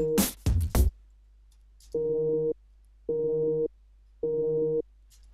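A short burst of speech, then three evenly spaced sustained FM synth bass notes from FM8, each about half a second long, with silence between them.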